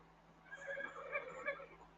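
A horse whinnies and nickers in short bursts, fairly close and moderately loud, with a faint steady hum underneath, while it is being ridden through snow.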